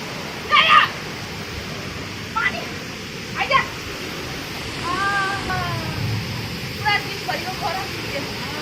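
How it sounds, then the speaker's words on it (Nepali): Heavy rain pours down outside a home on a hot day, a steady, dense hiss running the whole way through, with a few short voices and a brief mewing cry rising over it. "पानी चाहिँ सलिड पऱ्यो नि आज।"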